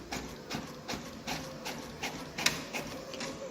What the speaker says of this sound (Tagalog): the printer will start printing because it has received a print